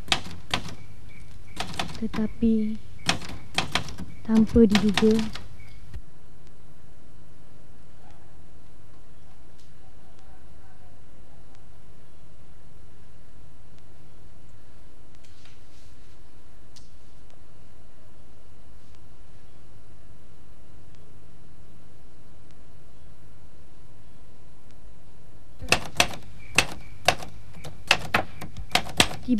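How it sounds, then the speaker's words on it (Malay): Rapid mechanical typewriter keystrokes clatter in dense bursts at the start and again at the end, close and crisp, separated by a long stretch of near-silent room tone, with a brief spoken line near the opening. "Dia terus menyambung menaip."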